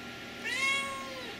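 A single short cat meow, clear but fairly soft, rising and falling over about half a second against a quiet room background with no talking.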